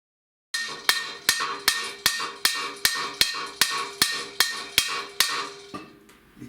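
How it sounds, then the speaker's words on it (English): Eleven sharp, ringing hammer blows on a home-made metal frame and body dolly, struck at a steady, even pace, each with a short metallic ring-out, close by and loud. "I'm gonna have to get a hammer here"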